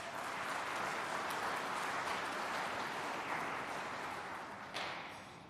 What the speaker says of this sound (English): Can we give SAICI a round of applause?